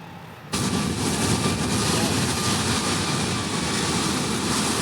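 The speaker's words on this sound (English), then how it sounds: "That was just the APU engine, which is in the back of the plane actually" Auxiliary power unit of an Airbus A320 running in the FlyByWire A32NX flight simulator, a steady loud broadband roar that starts abruptly after a short quiet moment and holds constant throughout.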